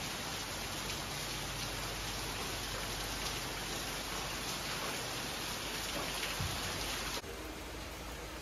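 Steady rain falls on a village in Guizhou Province, China, a dense continuous hiss of drops on surfaces that stays even and close throughout, briefly shifting in tone near the end.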